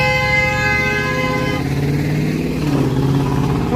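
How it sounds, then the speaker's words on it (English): A vehicle horn blares on a busy downtown Toronto street at Queen Street, a long, loud, sustained honk over traffic rumble and engine noise that fades into the street din. "What's he honking at"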